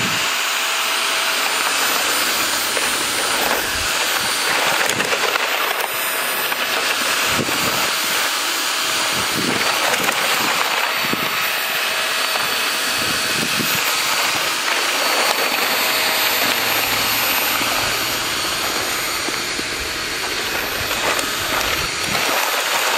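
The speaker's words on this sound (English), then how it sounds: "we're going to see if it can suck up some dirt and rocks" A Shark Rotator vacuum cleaner roars loudly and continuously while sucking up dirt and rocks, with a whining motor and scattered sharp rattles and clacks of debris, no talk.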